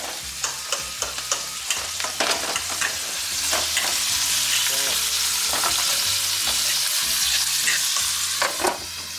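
Tuna frying in extra oil in a home kitchen pan, a steady loud sizzle with crackling pops and some stirring scrapes running throughout, no talk.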